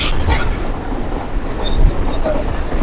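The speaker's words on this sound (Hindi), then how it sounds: "ट्रेन इसको भी बिना रुके क्रॉस कर रही है" The Millat Express rolls along a railway line through fields without stopping at a small station, giving a steady loud rumble and rattle of carriages with faint wheel clicks heard from on board.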